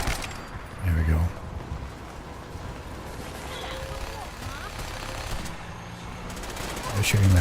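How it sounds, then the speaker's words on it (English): Gunfire from Fallout 4 at the Fallen Skybridge, a few dull shots standing out from a steady rumbling background, with bursts near the start and end; talk is heard too. "They're shooting that way."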